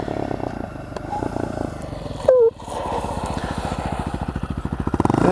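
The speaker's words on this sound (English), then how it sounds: "Sounds like the XR650. It is the XR650." A Honda XR650 motorcycle engine drones on a country road, a low pulsing rumble that swells as it accelerates toward the end, with a brief higher whine in the middle.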